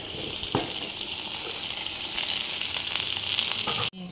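Okra sizzling in hot oil with tempered spices, onion and green chili: a steady, dense frying hiss close by with a few small clatters, stopping abruptly at the end.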